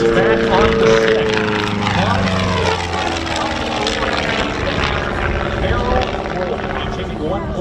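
A Long-EZ aircraft's propeller engine drones loudly through an aerobatic rolling maneuver at an air show, its pitch sweeping and shifting as it passes, with a voice talking over it.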